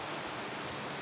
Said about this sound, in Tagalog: Umuulan na po rito.